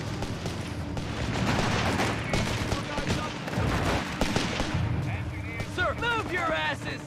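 Machine gun fire and explosions from the Company of Heroes 3 video game rattle and rumble continuously in a loud battle mix, with voices speaking over the din and high whistling effects near the end.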